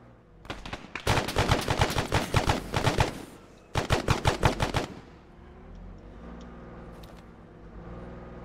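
Rapid bursts of automatic gunfire from a war video game, two long loud volleys of fast repeated shots separated by a short pause, then a low rumbling background with faint distant pops.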